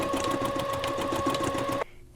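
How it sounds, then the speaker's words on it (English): A sewing machine runs a basting stitch back and forth over elastic near the edge of a shirred dress, a loud, close, fast whirring hum that stops abruptly near the end. "Do a couple back and forth rounds of stitching right here just to secure the elastic"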